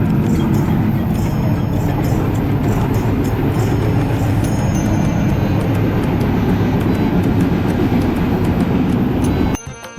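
A passenger train on the Dhaka to Tangail line runs steadily with a loud, continuous rumble and clatter heard from on board, ending in a sudden drop near the end.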